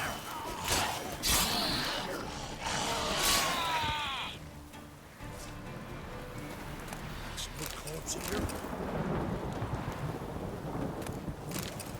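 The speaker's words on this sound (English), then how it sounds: "It's starting to rain." Rain and thunder in The Witcher 3: Wild Hunt, with rumbling thunder and a steady wash of rainfall filling the scene, loud and close, along with other game sounds.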